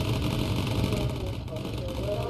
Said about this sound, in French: Ah, on a un moteur en feu.